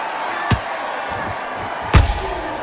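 Two heavy thudding punches land in the Undisputed boxing video game, roughly a second and a half apart, each a sharp impact over a steady crowd-like background hum.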